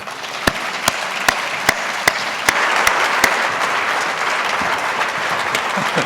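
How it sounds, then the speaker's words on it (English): Steady audience applause at a college sports debate, dense and continuous throughout with a few sharp, close individual claps standing out near the start. "Please, a round of applause for Jay Bilas and Oliver Luck."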